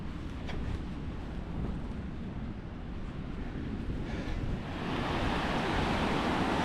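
A steady roar of Atlantic Ocean surf at Maspalomas, Gran Canaria, with some wind noise, swelling louder toward the end.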